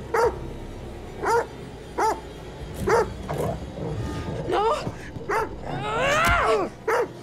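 A dog in the video game The Devil in Me barks repeatedly in sharp, spaced bursts, then whines and yelps in a rising, strained cry near the end, with a person speaking briefly amid the noise.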